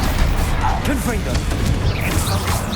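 The Confringo fire spell goes off in Hogwarts Legacy amid loud, continuous combat noise, with crashing bursts and booming hits layered over a dense rumble and no pause in the din.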